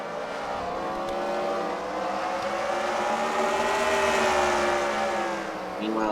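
A race car engine roars steadily at high revs during a race, its pitch rising and falling slightly as it holds speed, loud and continuous.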